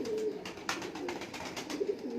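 Lakha pigeons coo softly and repeatedly at close range, low murmuring calls over a steady background hum, with no talking.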